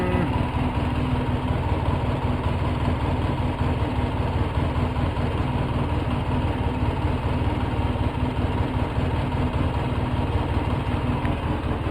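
A Polaris 700 engine idles steadily, a constant low rumble that stays unchanged and fairly loud throughout.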